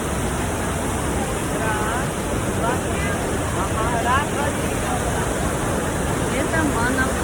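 Manavgat waterfall in Turkey roars as a loud, steady broadband rush of water, with faint crowd babble mixed underneath throughout.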